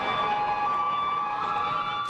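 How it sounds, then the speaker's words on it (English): An emergency siren wails at a distance on Toronto city streets, its steady tones drifting over faint city background noise, continuous and fairly soft. "Sirens blare on the streets of Toronto."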